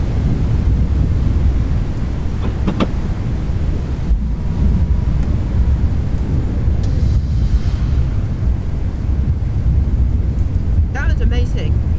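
Strong wind during a tornado chase storm, a loud continuous roar and buffeting that swamps the microphone for the whole stretch, with faint knocks.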